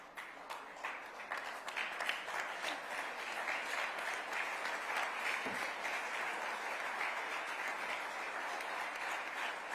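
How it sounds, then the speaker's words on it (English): An audience at an awards ceremony gives a standing ovation, with dense, sustained applause that stays full and even throughout. "it cannot be recognized without a standing ovation"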